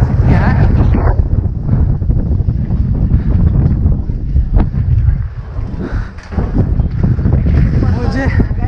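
Strong wind buffeting the microphone during a bicycle ride, loud continuous rumbling gusts with brief dips, someone speaking intermittently underneath.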